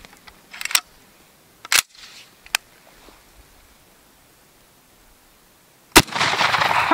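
Antique 120-year-old Winchester rifle firing a big, slower slug: a few sharp clacks of handling and action work, then one loud, close blast with a long, dense tail of echo or debris noise.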